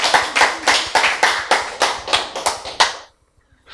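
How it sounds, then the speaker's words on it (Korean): An audience at a church sermon claps together in about nine rhythmic bursts at a steady beat, fairly loud and close, with no talk, then it stops abruptly before a final clap begins. "이때 박수 한번 치지."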